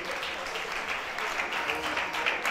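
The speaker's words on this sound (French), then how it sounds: "On l'applaudit pendant qu'il vient." Audience applause at a French cultural event featuring a voice and violin duo, steady clapping at moderate distance lasting throughout, fairly faint.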